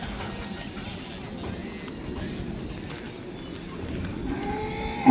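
Cattle at a busy bull market, with Nagori and local village bulls brought in pairs: faint lowing and hoof shuffling sit under steady crowd murmur and distant voices, with a brief louder knock near the end.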